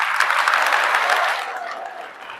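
An audience of children claps loudly and densely in an enthusiastic burst that tapers off toward the end.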